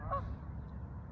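A single goose honks once, short and fairly close, over low steady rumble outdoors on the water in the evening.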